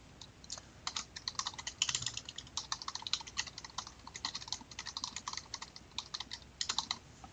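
Rapid typing on a computer keyboard, a steady run of light clicking keystrokes with brief pauses, close and fairly quiet with no voices.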